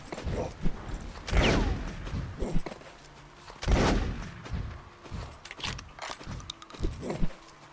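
Gunfire from the video game Buck Game comes as loud, close bursts of cracking shots and metallic impacts separated by short pauses, with rattling and clanking between volleys.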